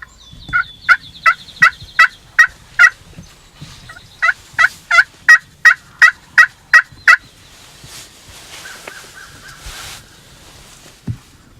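Series of sharp, evenly spaced calls in two bursts of roughly seven to eight each, loud and fairly close, then quieter scattered sounds, heard from a blind during a Wisconsin spring youth hunt as a wild turkey tom struts in a field.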